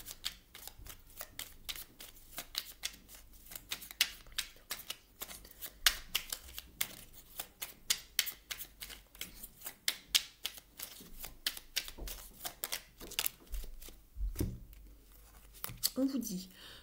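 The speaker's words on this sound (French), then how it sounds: "On va aller chercher une petite carte ici de l'oracle « Comment s'aimer et s'accepter pleinement »." Oracle cards shuffled and drawn from a deck, a long run of quick papery riffles and flicks, close and fairly steady, then a brief pause with a few softer card slides near the end.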